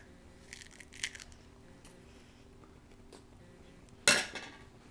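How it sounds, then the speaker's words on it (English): A 3-year-old child chews raw broccoli at close range, with scattered small crunches and one loud, sharp crunching bite near the end. "This is my 3-year-old child voluntarily eating raw"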